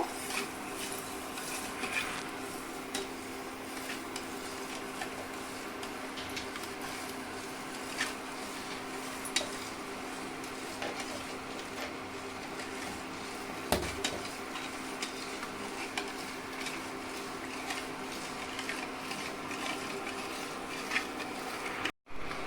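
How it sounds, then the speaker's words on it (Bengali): Quiet, continuous scraping and occasional light clinks of a spoon stirring milk with cracked cardamom in a pot, low and even throughout with a faint steady hum beneath and a sharp knock near the end. "ভালোভাবে দুধটা নেড়ে নেব।"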